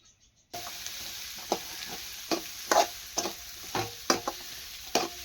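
Oil sizzles steadily in a kadhai as sandwich filling fries, with a spoon stirring and tapping at intervals over the constant hiss, close and without talk.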